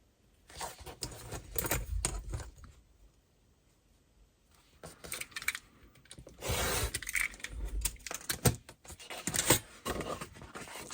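Scissors cutting paper for a jumbo Christmas envelope, soft irregular snipping and rustling in bursts with quiet pauses between, close and fairly faint.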